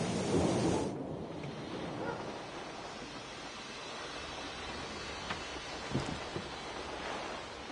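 Stormy weather in the video game Syberia The World Before: a continuous rumbling wash of wind and rain, with a deep swell at the start and a few faint cracks later on.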